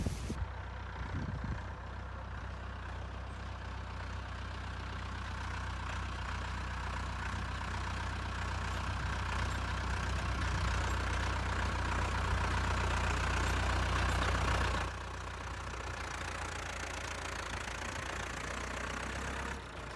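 A tractor engine idles close by, a low constant rumble that holds for most of the clip before easing slightly near the end.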